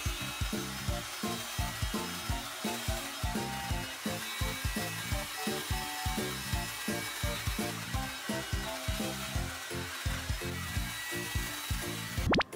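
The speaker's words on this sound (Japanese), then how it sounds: "そしたらやっとドライヤーですね。" A hair dryer blows a loud, steady roar while drying hair, its airflow pulsing in a regular rhythm as it moves, running alone without talk until it cuts off at the end.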